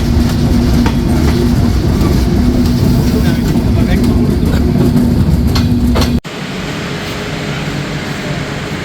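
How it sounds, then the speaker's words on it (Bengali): The Silkcity Express passenger train at Tangail railway station sends out a loud, steady rumble with a low hum and faint rhythmic clatter, then shifts abruptly to a duller, quieter roar. "পৌঁছে গেলাম Tangail railway station Tangail railway স্টেশনে হল্ট দুই মিনিট"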